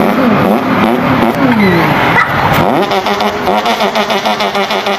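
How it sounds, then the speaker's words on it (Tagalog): A motorcycle engine starts up and revs loudly and close by, with rising and falling pitch sweeps over a continuous mechanical drone. "Start po natin ang ating motor at lalarga na po tayo."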